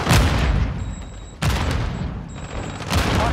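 Heavy gunfire and explosions in Call of Duty: Modern Warfare 2 Warzone, loud repeated volleys of shots with booming blasts in three bursts, close and dense.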